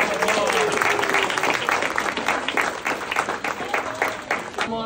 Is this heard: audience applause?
yes